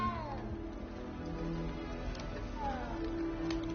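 A cat meows in a castle setting within a Harry Potter-style video game, giving two or three close, drawn-out mewing calls over a soft background hum.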